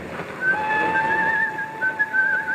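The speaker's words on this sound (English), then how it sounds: "A calm, gay Jim Hudson made his way, whistling as usual, through the weekend-bound crowds of Waterloo Station" A man whistles a steady, sustained tune with long held notes, close and clear over a faint murmur of crowd noise in Waterloo Station.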